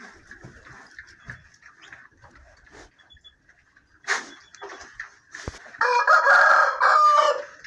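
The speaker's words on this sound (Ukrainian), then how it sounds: "Ой, Рембо, що то ти пізнувато оце виспівуєш?" A farmyard rooster crows loudly on a windy, thawing snowy Sunday morning, one long strong crow near the end after quieter scattered sounds and background noise.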